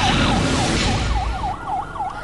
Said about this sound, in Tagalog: Tunog ng sirena ang gumising sa mga residente ng Maynila at Quezon City